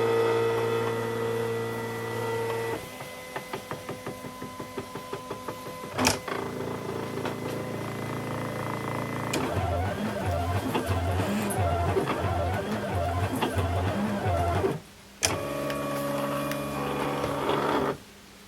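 A Silhouette Cameo cutting machine fitted with a deep cut blade runs a double cut through thick material, whirring motors and rollers with steady mechanical pulses and a rhythmic stepping pattern, close and moderately loud, with a brief pause near the end.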